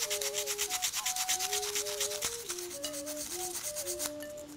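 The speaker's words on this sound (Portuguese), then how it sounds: "eu pego um pedacinho de carvão, um pedacinho de lixa e ó, lixo meu carvão fazendo uma poeirinha" A small piece of charcoal is rubbed against a scrap of sandpaper, a rapid rhythmic scratching close by, with a tonal hum running underneath.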